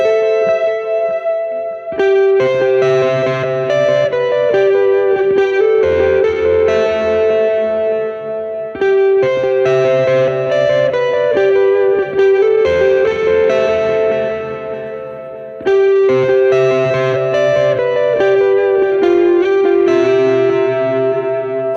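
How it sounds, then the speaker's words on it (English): Electric guitar played through a Duke of Tone overdrive into a high-repeat, high-mix delay, with saturated chords and notes trailing into dense, washing echoes, loud and continuous across several phrases. "Just a Duke of Tone into a high repeat,"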